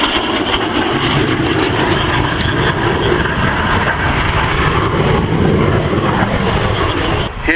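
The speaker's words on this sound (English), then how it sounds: "Here she goes, and there goes Cliff Spink, and a lovely final fast fly past" At the Cosford airshow, an aircraft flown by Cliff Spink makes a fast final fly-past, its engine a loud, steady, broadband roar throughout, close overhead and not fading away, with a commentator faintly audible under it.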